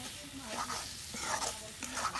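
Beef from the Eid sacrifice fries in a pan with a soft, steady sizzle and occasional stirring scrapes, faint and close, with a voice murmuring quietly underneath.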